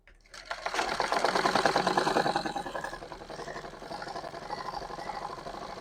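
A sewing machine runs steadily and loudly for several seconds, stitching a trouser pocket seam, with a dense continuous whir that eases slightly toward the end.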